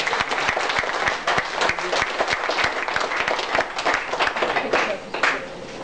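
A small group applauds at a fight-school session at Armadacon 06, a sci-fi convention, with individual sharp claps standing out in a quick, uneven rhythm that continues steadily.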